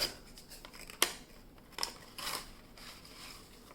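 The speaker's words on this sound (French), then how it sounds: "On va voir, hein. On va les déballer." A Yu-Gi-Oh! card deck package is unwrapped with a few sharp snips and crinkling plastic rustles, close and fairly quiet, with no one talking.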